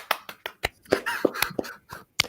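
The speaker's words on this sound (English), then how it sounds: "Dude, we need to clap for him." A handful of people clap their hands in a quick, uneven run of about a dozen sharp, close claps and snaps.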